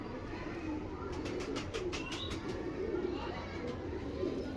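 Pigeons coo softly in a loft among a crowd of birds, low repeated calls beneath a busy background of chatter and a few brief high chirps.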